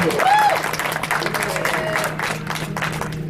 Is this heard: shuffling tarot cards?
no